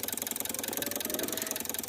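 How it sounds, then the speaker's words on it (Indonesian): A Kia Picanto engine idles around 600 RPM during ECU servicing, a close, steady, rapid chugging pulse with a slightly rough beat and no voices. "Kita start lagi. Nah, ini kita running dulu di RPM 600-an."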